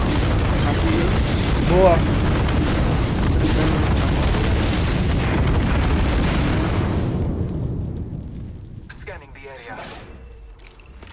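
Bomb blast in the mobile battle royale Apex Legends Mobile, a loud sustained rumbling boom with crackling debris that fades after several seconds, under players' voices in Portuguese.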